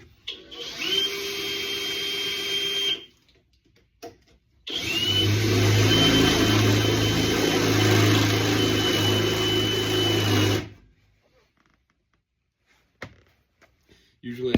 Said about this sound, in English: I'm going to be drilling out the very front and very back hole on the